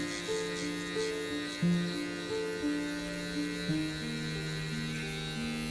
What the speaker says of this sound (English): So we'll open our clipper all the way open.